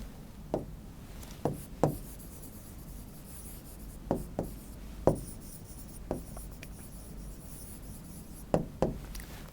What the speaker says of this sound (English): I'm going to write it over here.